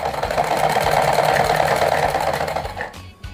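Electric sewing machine running steadily as it stitches fabric for a decorative lehenga chunri, a close, continuous mechanical whir with rapid needle rhythm that slows and stops near the end.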